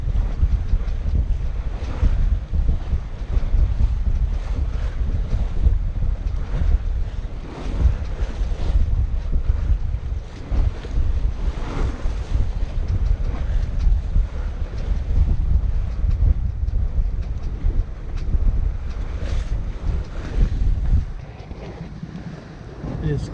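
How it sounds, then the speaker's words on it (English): Strong wind roars across a fjord aboard a sailboat, buffeting the microphone in gusts over continuous rushing water and waves, loud and close for the whole stretch. "It's not often that the winds are coming across a fjord sideways, and so you have quite a bit of wind"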